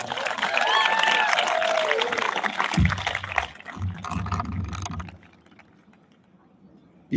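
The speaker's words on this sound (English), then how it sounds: "One more big round of applause" Audience applause at a charter school graduation ceremony, a dense patter of clapping heard while a voice talks over it, thinning out and fading into near quiet by the end.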